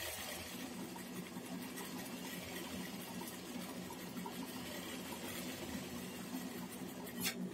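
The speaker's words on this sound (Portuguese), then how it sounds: "Eu já costurei um lado, vou costurar o outro" A sewing machine stitches a toilet lid cover fabric, running steadily and fairly quietly throughout without pause, a continuous mechanical whir with no voices.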